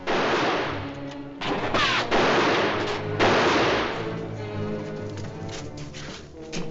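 Gunfire crackles in a 1955 western film, several loud shots and bursts in quick succession, some overlapping, followed by a lingering rumble and scattered further cracks with no talk.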